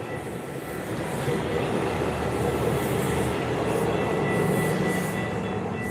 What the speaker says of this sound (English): And that's our A-line train to the plane.